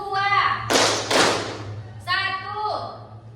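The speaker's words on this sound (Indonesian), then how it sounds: "Lagi, tepuk 2." A senior high school class claps twice in unison, two sharp crowd claps about half a second apart, with a teacher's voice talking before and after.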